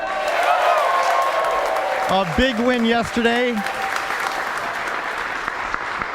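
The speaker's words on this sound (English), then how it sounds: "A big round of applause for them." Sustained applause from an audience fills the space while someone speaks briefly over it, the clapping continuing steadily after he stops.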